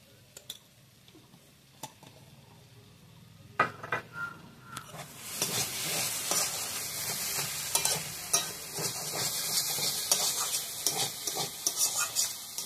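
Ridge gourd frying and being stirred in a pan, with a steady sizzle building after a few seconds and repeated scraping and clinking of a utensil against the pan throughout, close and without talking.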